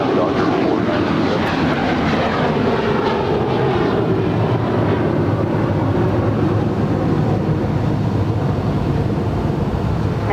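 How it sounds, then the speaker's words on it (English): A Polar cargo heavy jet taking off from runway 25 right at LAX, a loud, continuous broadband engine roar with low rumble that holds steady throughout, heard from nearby. "Polar 992 heavy, running 25 right, clear for takeoff"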